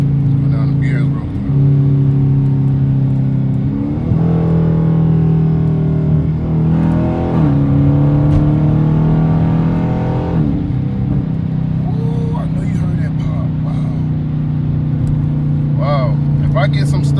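A Dodge Challenger R/T engine revs hard through the gears while driving, climbing in pitch to the rev limiter in repeated pulls, loud and close from inside the car with a whining tone between rising sweeps.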